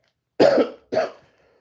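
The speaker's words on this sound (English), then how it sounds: "Y'all gotta excuse the cough, man." A man coughs twice in quick succession, a loud harsh burst followed by a shorter second cough, then quiet.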